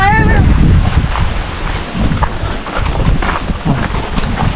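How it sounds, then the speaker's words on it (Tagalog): Strong wind buffets a boat at sea, rumbling loudly and steadily against the microphone, with people talking nearby. "Malakas ang hangin ngayon."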